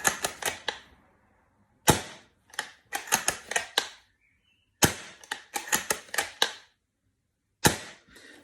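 An Edgi airsoft sniper rifle with stock Edgi spring and piston, close by: three sharp, loud shots, each with clusters of crisp mechanical clicks from handling and cycling, separated by brief silences, with no talking.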